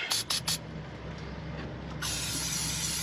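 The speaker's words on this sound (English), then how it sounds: "old silicone spray is going to be your best mate here." Three quick, close bursts of silicone aerosol spray hiss out in a row, then a steadier hissing spray starts up and keeps going to the end.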